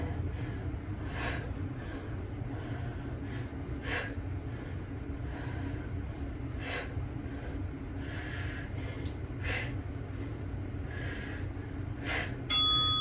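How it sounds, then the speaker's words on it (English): Pet rabbit sniffing close to a face during a hamstring exercise session, a string of short quick sniff bursts spaced about a second apart over a low steady background. "Bunny sniffs and kisses on my face."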